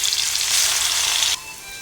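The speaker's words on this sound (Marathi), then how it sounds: "तर फोडणी देऊन घेऊयात आपण याला आता तेल एक चमचा घ्यायचा" Green chili, ginger, garlic and cumin paste tempered in a spoonful of hot oil gives a loud, close, steady sizzle that suddenly drops to a softer crackle near the end.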